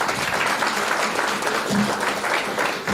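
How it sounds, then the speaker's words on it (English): Loud, sustained audience applause for panelists at a stakeholders' conference hall, dense overlapping claps filling the room and continuing steadily for seconds. "Please, a round of applause for our panelists."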